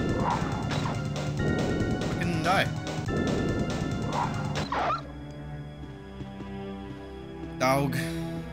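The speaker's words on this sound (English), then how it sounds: "Dog." A dog attacks in the Resident Evil video game, loud barking and snarling with crashing impacts through the first half, followed by a quieter stretch and a final sharp burst near the end, with a player talking over it.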